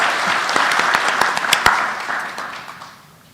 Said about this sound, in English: Yes, we can clap.